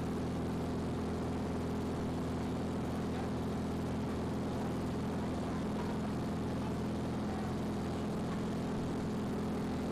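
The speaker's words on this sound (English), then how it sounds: "I took a 25-minute ride in one of their small airplanes" A steady, droning hum of a small propeller airplane engine, constant and even in pitch, heard from inside the cabin with no talking, flying over Lansing, New York.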